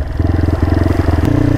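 A motorcycle rides on a rough, steep hillside village road. Its engine throbs loudly and close in a rapid, steady pulse, with a brief clatter partway through.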